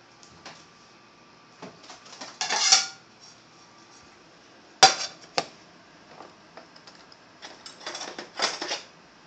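Sauce and cream-sauced salmon being plated onto a dish, with scattered clinks and taps of utensils against the plate and two brief clusters of scraping, close and fairly quiet with pauses between.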